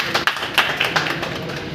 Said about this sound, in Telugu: ఒకసారి చప్పట్లు గట్టి కొట్టండి